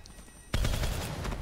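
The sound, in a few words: gunfire from a gun in Call of Duty Black Ops III video game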